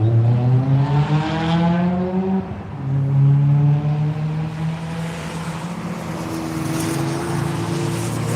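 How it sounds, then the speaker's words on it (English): A Porsche 911 Carrera S race car roars along the track at VIR, its engine note climbing through gears with rising whines and a brief shift drop, loud and close, with another engine heard underneath. "Right behind them, we've got that 911 Carrera S."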